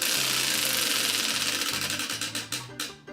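A banlist roulette wheel spins with a rapid clicking ticker that starts fast and steady, then gradually slows into spaced, individual clicks as the wheel winds down to a stop.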